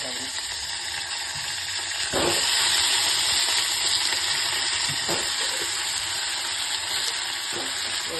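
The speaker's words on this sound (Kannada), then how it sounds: "ಬದ್ನಿಕಾಯಿನ ಹಂಗ ಬರೀ ಎಣ್ಣೆಗ ಮೊದ್ಲ ಸಾಯಿಸ್ಬೇಕು" Brinjal fries in plain oil, a loud, dense sizzle filling the whole stretch close up, with a few scraping stirs of a utensil against the pan.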